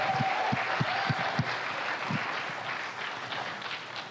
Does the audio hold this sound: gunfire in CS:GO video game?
no